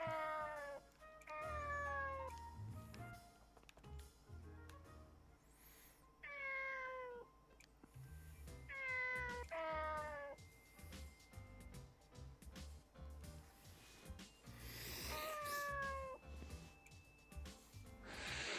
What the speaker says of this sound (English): I think the black cat took exception to that.